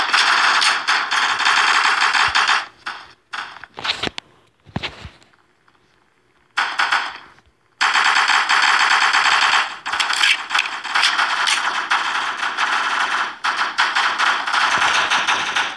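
Rapid bursts of automatic gunfire from the blocky shooter game Block Strike, loud and dense, cutting out briefly for a couple of quiet seconds before resuming in sustained volleys.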